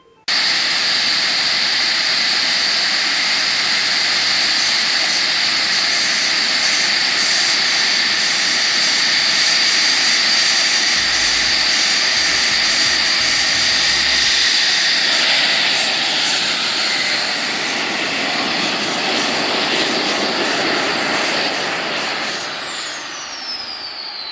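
A DIY turbo jet engine mounted on a bike runs a low-power launch: a loud, steady roar with a high whine holds for about twenty seconds, then eases off slightly near the end.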